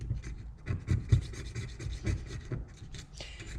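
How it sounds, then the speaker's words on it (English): Old gasket material being scraped off a pressure washer part, a close, rough, rhythmic rasping that continues unevenly throughout. "let me scrape this little bit of gasket material off of here,"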